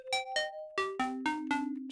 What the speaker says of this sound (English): Just a cool bell that we'll be starting with here when we get into the melodics